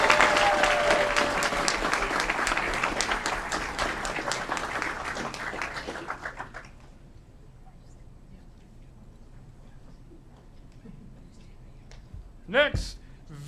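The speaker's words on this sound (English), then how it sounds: "big round of applause for state champion Alex Engel." Applause at a city council meeting for a state champion: dense, loud clapping for about six seconds that stops abruptly, leaving a quiet room with a brief sharp noise near the end.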